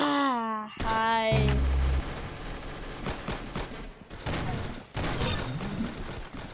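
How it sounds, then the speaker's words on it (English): A minigun fires in the Roblox game Arsenal, a dense rapid stream of shots crackling through most of the scene after an opening vocal whine. "I have a mini gun."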